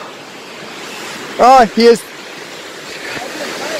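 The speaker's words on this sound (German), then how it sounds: "hier ist die, der Fluss Nidder, der auch durch die gleichnamige Stadt Nidder fließt" The Nidder river flows with a steady, broadband rush of water through the whole stretch, and a voice briefly cuts in over it partway through.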